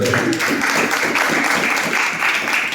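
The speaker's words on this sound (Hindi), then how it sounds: "आइए गुरु जी यहाँ ताली बजाते हैं" An audience claps for the guru during a devotional class, a dense and continuous patter of many hands at close range with no talk over it.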